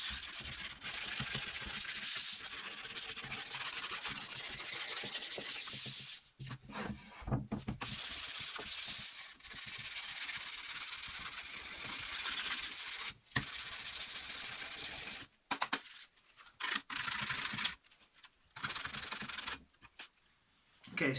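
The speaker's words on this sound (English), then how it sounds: "Okay, so I've sanded it down a bit" The wood of a guitar body being sanded by hand, a dense raspy scratching in long continuous strokes broken by brief pauses, close and steady.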